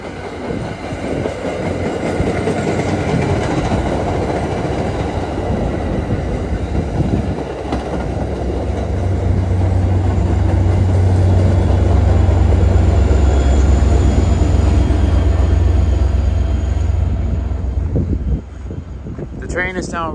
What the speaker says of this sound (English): looks like the commuter rail's coming, so we're gonna get the commuter rail as well